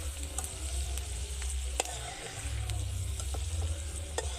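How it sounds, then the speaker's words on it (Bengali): Peanuts frying in a pan on a gas stove give a steady close sizzle and crackle, with sharp little pops and stirring scrapes dotted through, and no voices. "বাদামগুলো ভাজা হয়ে গেছে"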